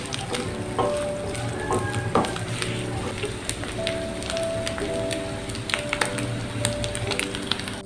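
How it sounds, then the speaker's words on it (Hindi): Onions frying in a pan for keema, a steady rain-like sizzle throughout with a few faint stirring clicks, close and even in loudness, with no talking. "प्याज को हम इसमें फ्राई करेंगे।"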